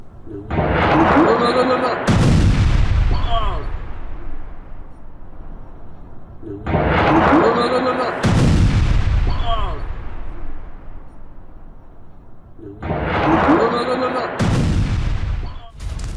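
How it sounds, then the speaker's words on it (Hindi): Russian Oreshnik missile strikes hit Kyiv: three heavy, booming blasts arrive several seconds apart, each set within a sustained loud roar of rumbling noise. "यूक्रेन की राजधानी में एक के बाद एक कई धमाके हुए हैं।"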